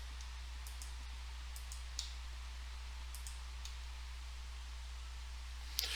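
Mouse clicks while building a quiz on a computer, a few sharp isolated clicks spaced apart over a quiet steady hum.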